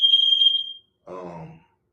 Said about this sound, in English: that alarm and stuff going off